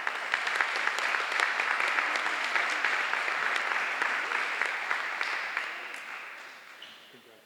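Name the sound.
applause for an award recipient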